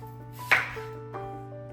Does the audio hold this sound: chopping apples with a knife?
yes